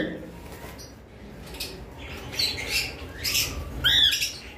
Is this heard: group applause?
no